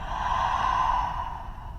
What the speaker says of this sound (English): and out through the mouth, making the HA sound.